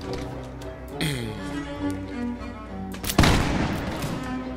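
A single musket-style gunshot from the Napoleonic warfare video game L'Aigle cracks out loudly near the end, a broad burst with a rough tail, following quieter game ambience and soft voices.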